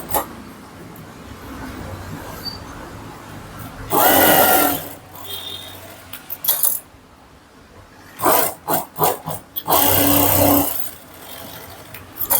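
Sewing machine double-stitching the neckline of a close-neck blouse, with several loud, close bursts of rapid whirring separated by quieter gaps.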